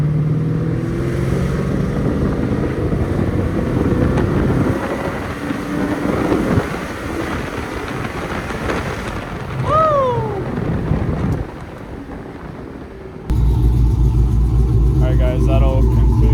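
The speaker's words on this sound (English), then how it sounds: "Here we go, 4th gear pull." A 6.4 Hemi Scat Pack engine with a stage 1 cam roars loudly and steadily under hard fourth-gear acceleration, briefly easing off before surging again near the end, with a faint whistle midway.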